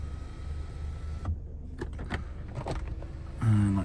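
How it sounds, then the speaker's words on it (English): An electric sunroof slides open on a Mercedes-Benz GLB 220d AMG Line, giving a motor whir with small clicks and knocks inside the cabin, then a louder hum at the end. "We'll open up the roof."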